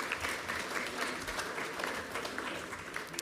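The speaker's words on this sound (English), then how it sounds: "Give them a round of applause." A crowd applauds students' families at a National Technical Honor Society induction in a hall, steady dense clapping throughout, close and continuous.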